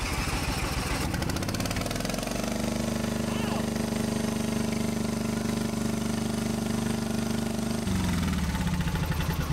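An original 11 horsepower Briggs engine runs on a heavily modified vehicle at a car show, a loud, steady mid-pitched drone close by with a brief rev, under people talking.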